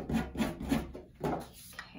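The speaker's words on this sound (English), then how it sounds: "I'm gonna sand it just a little bit" Hand sanding the edges of a painted tin can craft snowflake, close rhythmic back-and-forth rubbing strokes, about four quick passes, no talk.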